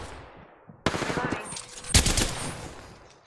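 Automatic gunfire in Apex Legends bursts in sharply after a quiet start, with a second louder volley near the middle, rapid and close, with faint voices underneath.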